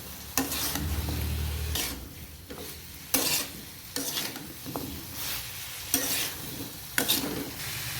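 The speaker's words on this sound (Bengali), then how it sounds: "এবারে নেড়ে নেবো" Drumstick and potato curry being stirred in a pan on low flame, a soft sizzle broken by a few sharp scraping strokes spaced about a second apart, with no voices.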